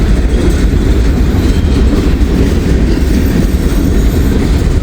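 Slow freight train with a single locomotive passing close by, a loud steady rumble of rolling wheels and rail noise with faint clickety-clack throughout.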